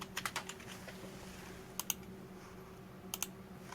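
Computer keystrokes come in short quiet bursts of clicks separated by pauses, close and alone over a low steady hum, as someone types code while building a website.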